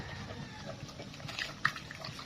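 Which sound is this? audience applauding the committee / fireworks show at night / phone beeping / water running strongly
water running strongly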